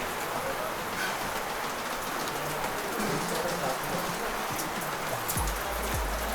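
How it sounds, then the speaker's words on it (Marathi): Steady rain falls outside a village house, a continuous dense patter with a few low thuds near the end and no talk over it. "बाहेर मस्त पाऊस पडतोय"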